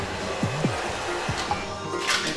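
Heat gun warming thick multi-layered white glossy pearl vinyl wrap on a Tesla Model 3, a steady airy whir and hiss with a few soft handling thumps and squeaks, close by.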